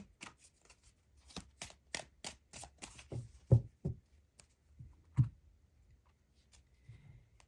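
Tarot cards drawn from a deck, heard as a quick run of crisp card flicks and snaps, followed by a few softer slaps as cards are laid down, close and quiet.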